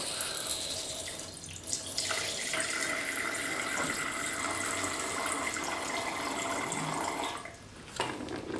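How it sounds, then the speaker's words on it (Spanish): Water running into a laboratory beaker, a steady hissing tap stream lasting several seconds that briefly cuts off and restarts near the end. "Vamos a llenar un vaso de precipitados con 50 mililitros de agua."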